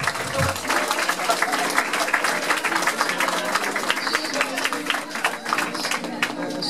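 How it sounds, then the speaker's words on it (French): An audience at a middle school talent show semifinal applauds with dense clapping throughout, mixed with crowd noise and a few voices calling out. "Bravo encore à Louane, tu mérites encore des applaudissements"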